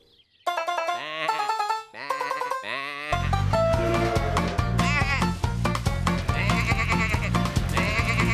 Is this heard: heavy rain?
no